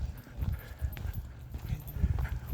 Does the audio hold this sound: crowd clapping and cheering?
no